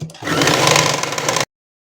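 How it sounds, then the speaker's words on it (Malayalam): A sewing machine double-stitches a nighty seam, a fast steady whirring chatter close to the microphone for about a second before stopping abruptly. "നമുക്ക് ഡബിൾ സ്റ്റിച്ച് ചെയ്തെടുക്കാം."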